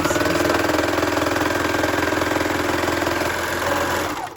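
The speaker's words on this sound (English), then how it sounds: "this machine, being an overlocker, is much noisier than my sewing machine" An overlocker sewing machine runs steadily with a fast, buzzing mechanical rhythm, loud and close, slowing and stopping at the very end.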